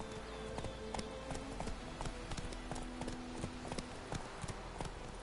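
Horse hooves clip-clop in a steady rhythm in a Witcher-style video game, close and moderately loud over a constant background bed of game ambience.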